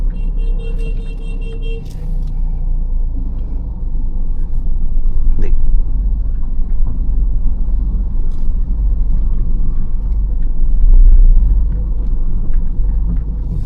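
A car engine runs with a steady low rumble while the car reverses along a narrow road, swelling slightly at times, with a person talking throughout.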